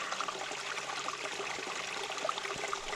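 A forest stream runs near a swimming spot between a dam and pools, a soft continuous trickling and splashing of water, fairly quiet and steady with no voices.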